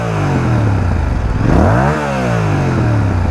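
A Yamaha R7 fitted with an Akrapovic exhaust revs hard at a standstill, engine pitch climbing to a loud peak and then dropping back toward idle, up close with no voices.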